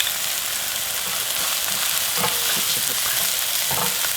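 Green onion frying in oil with chili powder in a pan, a dense, continuous hiss of sizzling oil with soft stirring scrapes, close and steady, a brief spoken word barely audible.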